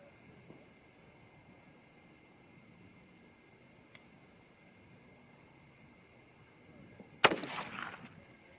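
A single sharp rifle shot firing a Hornady 100 grain ELD-VT bullet cracks out loudly near the end, following a long quiet stretch with faint outdoor background.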